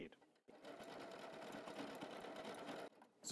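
A W6 N 5000 Exklusive sewing machine stitches a decorative motif in one continuous run, a steady close whirring hum with rapid needle chatter, beginning and ending with short pauses.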